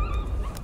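A dog in the horror game Layers of Fear gives short, high yelps and whimpers, close and clear, over a low rumbling game background.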